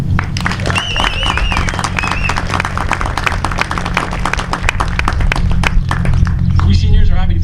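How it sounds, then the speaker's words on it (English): Applause from the audience at a high school graduation ceremony, steady dense clapping across the clip with a low hum and crowd noise beneath; a voice speaks over it near the start. "So let's give them a round of applause."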